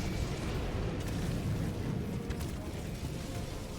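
Barrage of strafing-run explosions in Helldivers 2, a continuous heavy rumble of overlapping booms and crackling bursts, steady and fairly distant with no pauses.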